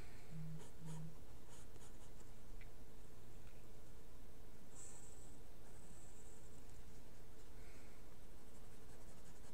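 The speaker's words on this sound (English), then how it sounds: "That's how I'm going to sketch mine." A pencil sketches an insect illustration of a giant resin bee on paper, a steady soft scratching and whispery strokes close up, continuous and quiet with no talking.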